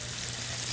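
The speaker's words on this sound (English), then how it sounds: "you want that nice, a nice sizzle sound. Put the scallops in" Scallops sizzle in a hot pan, a dense steady crackling hiss throughout the short moment.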